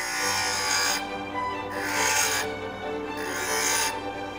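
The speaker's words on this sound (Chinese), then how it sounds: "我再用砂轮机磨一下。" A bench grinder sharpens a steel drill bit, giving three rasping grinding bursts about a second apart over the steady hum of the running grinder motor.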